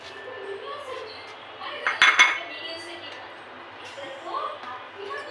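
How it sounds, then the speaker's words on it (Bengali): Raisins, almonds, cashews and pistachios drop into a pan of halwa with a quick metallic clink and clatter, a short sharp burst under someone talking nearby. "এই পর্যায়ে আমি দিয়ে দিব কিশমিশ, কাঠবাদাম, কাজু বাদাম, পেস্তা বাদামগুলো।"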